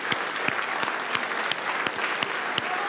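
A crowd applauds at a student science competition event after a successful attempt, with steady dense clapping and a few sharp, close individual claps punctuating it throughout.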